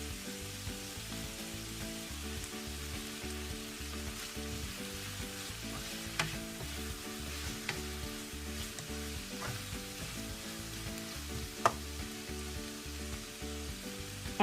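Seasoned duck meat with soy sauce being mixed in a hot pan, a faint even sizzle under regular rhythmic stirring strokes and occasional light clicks of the utensil, quiet throughout with no speech.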